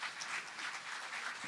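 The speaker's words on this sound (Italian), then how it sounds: "Bellissimo applauso per Cristina" Brief, fairly faint applause from an audience at a live anniversary celebration in Cagliari, a soft continuous patter of clapping.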